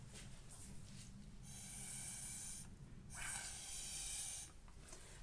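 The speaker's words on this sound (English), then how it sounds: "But just by blowing and doing with a straw, you can see that it's already moving and it gives you some really nice effects." Someone blows acrylic paint across a mixed-media panel through a big straw, producing soft, breathy airy hisses in two longer puffs over low background rumble. The puffs are faint and close, with no talking.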